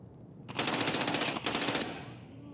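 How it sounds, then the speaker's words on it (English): Rapid automatic gunfire in Escape from Tarkov, two loud close bursts of evenly spaced shots, the first lasting over a second, a brief gap, then a shorter second burst fading into a ringing tail. "Just shot me in the back, killed me."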